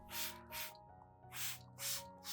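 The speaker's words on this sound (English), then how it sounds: "lightly and evenly spray the entire orchid plant, including leaves, stems, roots, and leaf axils" Trigger sprayer misting an orchid plant with a rice flour and garlic mixture, five short close hissing bursts in a steady rhythm over a quiet hum.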